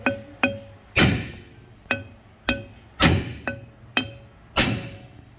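A dead blow hammer strikes a rusted metal part repeatedly, eight or so sharp blows at an uneven pace, some harder than others, close by with brief ringing between hits.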